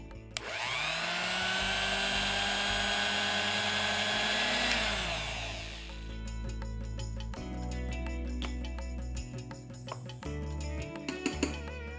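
A kitchen mixer grinder whirs loudly as it blends a coconut and curd paste, a steady high motor whine for several seconds that then stops, followed by quieter lid and jar clatter.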